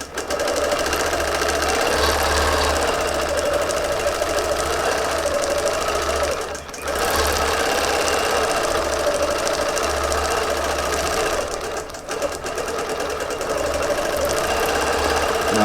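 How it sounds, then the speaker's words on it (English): A sewing machine stitches along a marked line, running steadily and loudly at a constant speed for the whole stretch, with two short pauses. "So here I am going to start stitching now."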